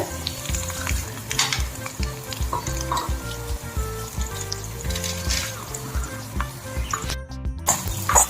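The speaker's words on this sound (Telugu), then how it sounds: "ఇప్పుడు ఒక రెండు స్పూన్లు ఆయిల్ వేసుకుని కళాయిలో ధనియాలు" Coriander seeds and cumin sizzle in a little oil in a kadai, a close, steady crackling fry with stirring scrapes running throughout and no talk.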